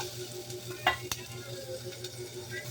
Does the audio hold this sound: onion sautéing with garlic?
yes